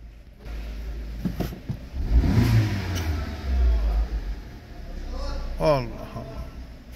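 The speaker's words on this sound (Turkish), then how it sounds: "Araba çalışıyor ha vallahi." A car engine hums steadily, swelling into a couple of revs before settling, with a brief chirping squeak near the end.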